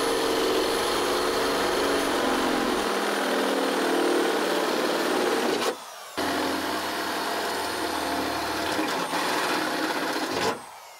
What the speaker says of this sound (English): I'm going to come through with the correct size drill bit for the holes necessary to mount the snorkel.